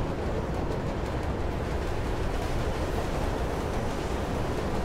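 A train in the Mirror's Edge video game, moving as a continuous broadband rumble and rushing noise that stays fairly quiet and even across the whole short stretch.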